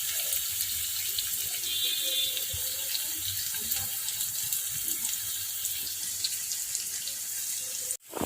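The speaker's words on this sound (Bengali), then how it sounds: "এবার এটা আমি বাটারের মধ্যে এর মধ্যেই ভাজবো।" Food fries in butter in a pan over a low gas flame, a steady close hiss and fine crackle that runs without a break, ending in a sudden cut near the close, with no talk.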